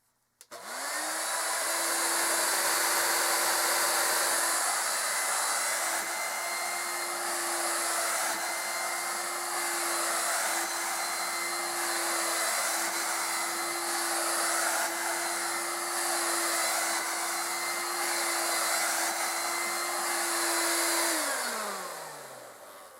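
A Bissell Featherweight stick vacuum cleaner starts up, holds a steady loud whine with a constant motor tone for about twenty seconds, then spins down at the end; no talking.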